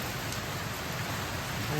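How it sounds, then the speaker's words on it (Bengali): Heavy rain pours down during a storm, a dense, steady hiss of drops pattering on surfaces close by, with no break through the short stretch. "অবশেষে বৃষ্টি কিন্তু আরম্ভ হয়ে গেল পুরো বৃষ্টিটা আরম্ভ হয়ে গেছে এদিকে"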